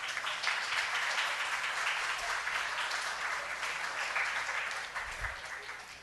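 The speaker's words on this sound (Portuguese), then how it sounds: "Uma salva de palmas." A legislative chamber audience applauds during a medal ceremony, sustained dense clapping filling the room at steady volume before tapering slightly near the end.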